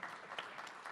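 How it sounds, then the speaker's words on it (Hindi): Interview audience clapping for Bhushan ji, a brief stretch of quiet, distant applause with a few sharper claps. "भूषण जी, जोरदार तालियां भूषण जी के लिए हो जाए एक बार।"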